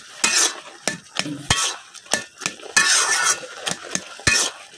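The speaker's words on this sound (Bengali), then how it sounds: "কচুর ডাঁটা শাকটা আমি কিন্তু অনেকক্ষণ মিশাই নিছি একসাথে করে" Boiled taro stalks and leaves being stirred and mashed together in a pan, with repeated scraping and clacking strokes in an uneven rhythm, close and fairly loud.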